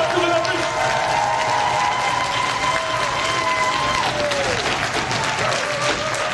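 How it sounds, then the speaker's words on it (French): Audience applause for all the participants at the close of a recycling-themed stage show, a sustained wash of crowd clapping with cheering voices and a steady tonal hum running beneath it. "On peut applaudir très fort tous les participants, s'il vous plaît."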